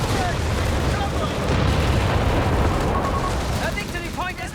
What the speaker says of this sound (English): Oh, big damage from that flame barrage.